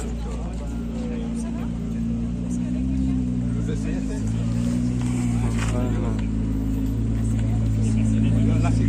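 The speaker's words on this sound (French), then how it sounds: "Regardez ce qui vient. Ferrari 296." A Ferrari 296 sports car passes at a street car meet, its engine note rising and falling as it drives by close and loud, with a person talking over it.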